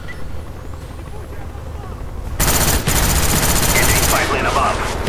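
Video game gunfire erupts as a loud, sustained automatic burst after a quieter start, roaring continuously for about two seconds before easing off.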